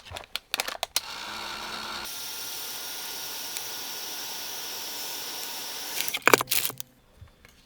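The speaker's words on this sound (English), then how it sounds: "A little bit with my heat tool." A heat tool blows steadily to dry ink on a handmade card, a continuous broadband airy hiss for several seconds, framed by brief handling clicks and taps before and after.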